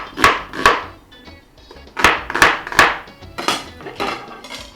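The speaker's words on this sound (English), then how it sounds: "my tip is to chop them up in really very tiny bits" A knife chops vegetables into very tiny bits on a cutting board for party jollof rice, giving sharp, close, loud knocks in quick pairs and small clusters with short gaps between.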